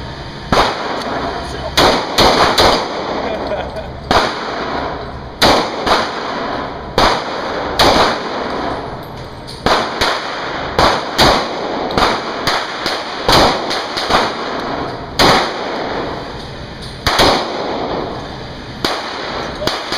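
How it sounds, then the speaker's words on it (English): A gun firing shot after shot outdoors, loud sharp cracks spaced irregularly every second or two, with muffled talk and movement between them. "I'm about to do this one all gangsta style and then let Tiffany shoot again"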